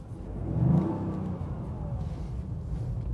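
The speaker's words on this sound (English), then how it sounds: "I've gone down to first gear to see if it puts power any more quickly." A Toyota GR Yaris four-wheel-drive hot hatchback revs in first gear, its engine note swelling to a loud peak early on and then holding a steady, rumbling drone.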